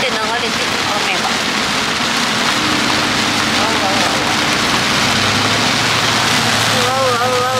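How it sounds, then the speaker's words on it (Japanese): Heavy rain pouring down and streaming along surfaces outside a car, a dense constant roar with a low rumble underneath and brief voices over it. "すごいよこれ。 ふよふよふよふよって流れてる雨が。"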